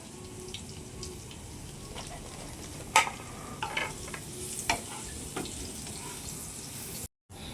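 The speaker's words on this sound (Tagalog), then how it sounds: "Ilagay ang bawang sa kawali. Lutuin ito." Garlic sautéing in a hot pan, a soft steady sizzle broken by a few sharp clinks and scrapes of stirring, close by with no talking.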